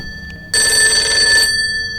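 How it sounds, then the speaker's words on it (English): A telephone bell rings in one loud, bright burst of about a second, rattling over a quiet room hum, then stops abruptly and leaves a fading ring. "Don't answer the phone."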